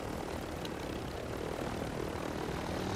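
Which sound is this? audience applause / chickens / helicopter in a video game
helicopter in a video game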